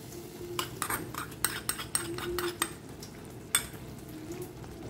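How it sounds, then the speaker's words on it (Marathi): Butter and chili powder tempering sizzling in a pan for a paneer dish, a steady crackle punctuated by sharp clinks and scrapes of a spoon against metal, close and fairly quiet with no voices. "सो फायनल आमी बटर आनी चिली पावडरचे तडका दिवया."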